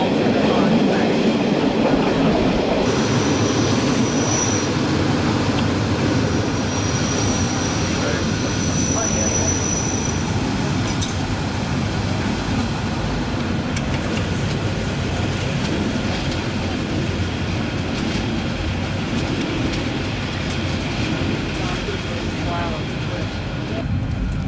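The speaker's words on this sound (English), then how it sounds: "as the train pulls off to another destination." A train pulling away in the Swiss mountains rumbles steadily with rolling wheel noise and a faint high whine, continuous and fairly loud throughout, with muffled voices in the background.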